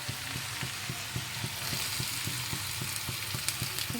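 Onions sizzle steadily in a pan up close, with a regular tapping rhythm of stirring running through the hiss.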